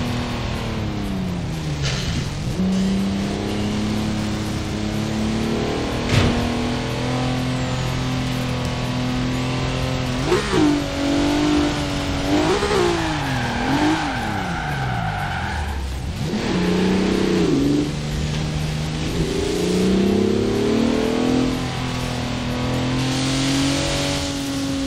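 Several cars travel in convoy through Forza Horizon 4, engines droning steadily with pitch swooping up and down as they rev and shift, tyres squealing through corners; loud and continuous, no speech.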